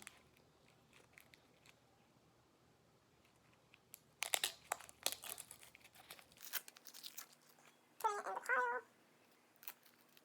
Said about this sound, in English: discarding it in our garbage pile, and peeling off the skin